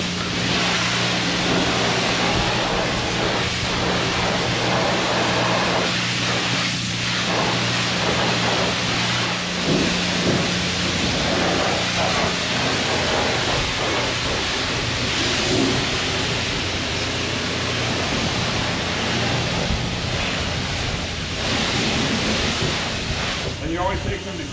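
A steady, loud hiss of sprayed water wets the wheel of a 2005 Ford F150 truck, continuous and close throughout with no talking.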